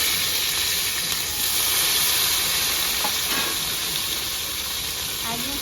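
A large cut tomato hits hot oil and spices in a pan on a village-style cooking fire, setting off a loud, continuous close sizzle and hiss with faint stirring noises.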